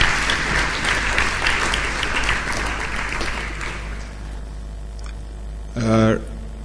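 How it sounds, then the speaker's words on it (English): A crowd at a church gathering gives a round of applause that carries dense and fairly loud for about four seconds, then fades out, and a voice speaks briefly at the end. "Please give him another round of applause."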